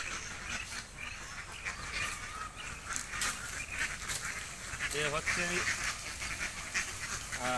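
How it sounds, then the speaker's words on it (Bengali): A flock of ducks on a duck-rearing farm calls near a pond, a few quacks rising now and then over steady outdoor noise while someone talks. "এই দেখেন হাঁসের পাল"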